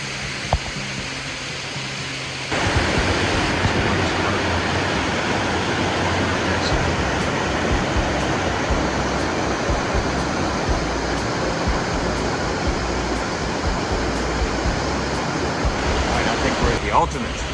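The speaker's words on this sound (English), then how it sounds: "We're walking just alongside this waterfall." A waterfall pours in a steady, loud broadband rush that swells abruptly a few seconds in and then holds constant, close by and continuous.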